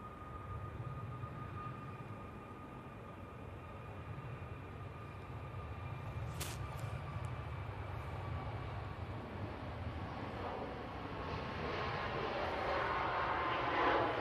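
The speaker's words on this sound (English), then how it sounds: "this is the TUI Max 8 off to Espargos." TUI Boeing 737 Max 8 departing Manchester Airport for Espargos, a faint, distant jet engine hum that slowly builds, growing louder and brighter over the final seconds.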